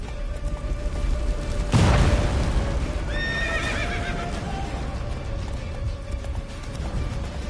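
Horse in The Witcher 3 on PS5 gives a loud whinny with a rising, wavering neigh that trails off over a few seconds, preceded by a sharp thump and set against steady game ambience and a low tonal hum.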